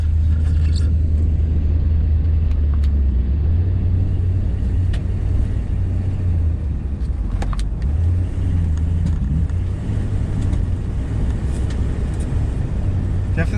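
Van engine with a misfire running while driving, a loud, steady low rumble with uneven drone and faint rattles of loose cargo, no talking.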